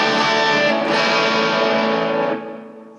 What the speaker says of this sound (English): And here's the distortion US Dream.